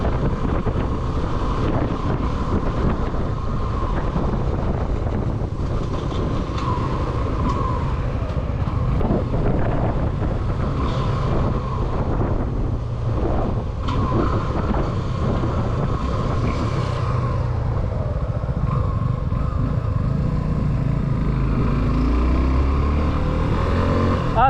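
A Suzuki V-Strom 250 SX rides on road through sharp corners, its engine droning steadily beneath heavy wind buffeting on the microphone, continuous and close throughout.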